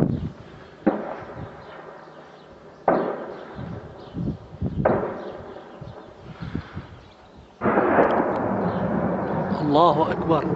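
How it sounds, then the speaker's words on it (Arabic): Heavy rocket and artillery shelling pounds a western neighborhood in Bosra al-Sham, Daraa, with several loud booms at intervals, each rolling into rumble. Voices talk and shout throughout. "قصف عنيف في هجمات الصواريخ المدفعية يستهدف الحي الغربي."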